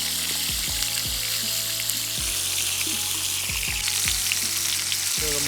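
Prawns and chicken fry on roof tiles with a loud, continuous sizzle, close up, broken by several low thuds and knocks as pieces are moved about, with no voices.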